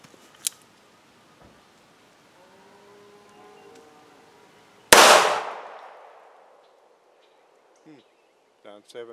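A single sharp, loud gunshot from an NAA 22 Magnum revolver firing 45 grain Hornady FTX rounds during a velocity test rings out and decays over about a second, after a quiet stretch with faint voice-like tones. Small clicks follow.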